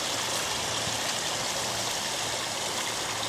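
Water spilling from an old clawfoot tub into a koi pond, a steady close splashing rush with constant trickling and no pauses.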